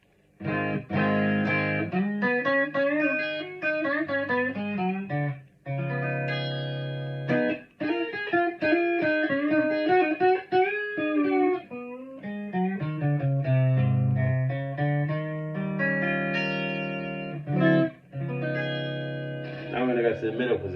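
Clean electric guitar, a 1989 Korean Samick-made Squier Telecaster on the neck pickup through an amp with no reverb, with a warm, rounded tone plays a flowing passage of melody and chords, sustained notes ringing with only short pauses.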